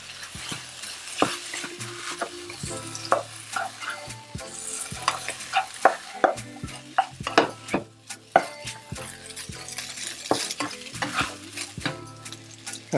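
Tom yum fried rice being stir-fried in a hot pan with egg and green onion, steady sizzle broken by frequent scraping and tossing of the spatula, close and fairly loud with no talking.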